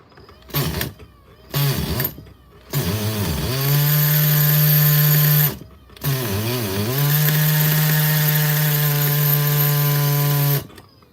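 A Traxxas nitro RC car engine, a new Mutant, is pull-started with a few short rasping sputters before it catches and buzzes loudly at a steady pitch, cuts out briefly, then buzzes again; close, no talking.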